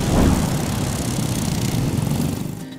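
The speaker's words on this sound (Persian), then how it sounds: "با شروع فصل بهار مسابقات ماشین های چمنزنی در بریتانیا هر ساله برگزار می شود" Racing lawn mower engine at a British lawn mower race, a loud, close, buzzing motor drone that holds steady and then tapers off as it moves away.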